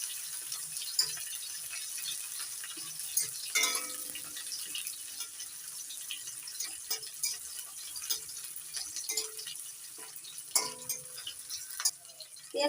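Onion frying in a pan for a Malabar spinach curry, before potatoes go in: a steady, fine sizzling hiss runs throughout, broken by scattered clicks and scrapes of a spatula stirring against the pan.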